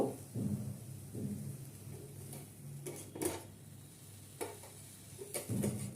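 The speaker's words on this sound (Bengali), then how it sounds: "দেখুন কি সুন্দর আমগুলো পুড়ে যাচ্ছে" Mangoes roasting on a wire rack over a low-medium gas flame, with a soft steady burner hiss and occasional metallic clinks and knocks as the fruit is turned.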